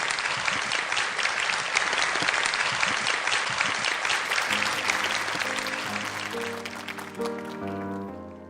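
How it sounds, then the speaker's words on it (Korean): A studio audience at a Korean television poetry-reading programme bursts into steady, dense applause that holds for several seconds, then thins out as music begins to play underneath. "큰 박수가 나오면 좀 덜 떨립니다"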